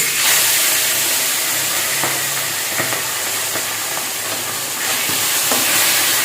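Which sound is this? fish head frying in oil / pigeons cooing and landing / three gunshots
fish head frying in oil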